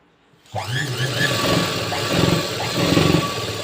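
Sewing machine stitching the lining of a blouse, starting abruptly and then running as a continuous steady motor whir with a rhythmic mechanical hum, loud and close with no talking.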